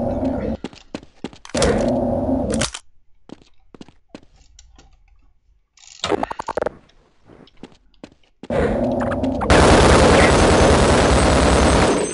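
A volley of video game gunfire bursts out in short loud clusters separated by near silence, ending in a sustained noisy barrage.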